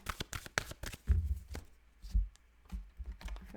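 Cards slid and pulled from an oracle card deck, a close series of soft papery flicks and shuffling riffles in quick irregular bursts, quiet and with no talk.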